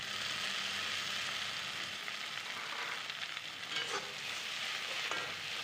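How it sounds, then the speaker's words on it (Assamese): Chopped tomatoes frying with onions in a pan for a mushroom and green pea curry, a steady close sizzle with occasional scrapes and clinks as they are stirred, and no talking. "বিলাহীখিনি গলি যোৱালৈকে এনেদৰে লৰাই লৰাই ভাজি থাকিব লাগিব।"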